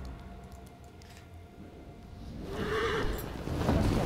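A horse neighs in the World War I shooter Battlefield 1, a clear whinny that rises out of quiet background game noise, with a second call near the end.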